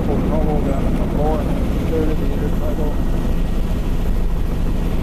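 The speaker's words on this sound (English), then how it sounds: "Quite a strong headwind here." Strong headwind gusting across a pebble and cobble beach on a bare bedrock shore, a steady loud broadband roar buffeting the microphone throughout with no other sounds standing out.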